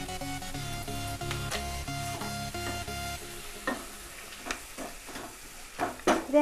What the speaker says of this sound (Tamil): இதே நல்லா சாஃப்டாக ஆகிறது வரைக்கும் நல்லா வதக்கி கொடுத்துக்கலாம்